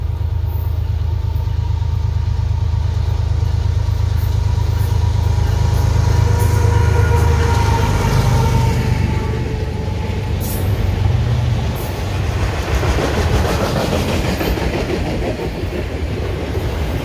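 A southbound CSX freight train rumbles past steadily in Nashville, Tennessee, with heavy low engine drone and rolling wheel noise swelling mid-way and then easing off; no talking.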